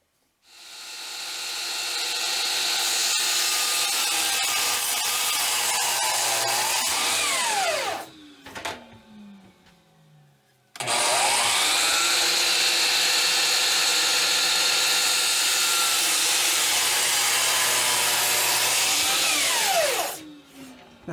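Miter saw tilted to a bevel cutting a piece of wood for speaker stands, two loud whining cuts, each spinning up, biting through and winding down, separated by a brief quiet gap.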